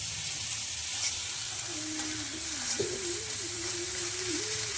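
Hot oil sizzles and crackles steadily up close, with a faint thin whine drifting through the middle.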